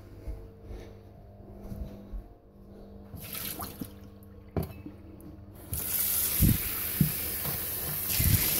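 Water running and dripping into a pet's bowl during a routine water change, with a faint trickle and drips at first, then a louder steady tap flow and splashing near the end.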